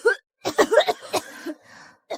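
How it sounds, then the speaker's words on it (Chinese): A sick child coughing in a series of short, close bursts, a few quick hacks followed by a weaker one, with brief pauses between. "听着咳嗽声，不是疟疾"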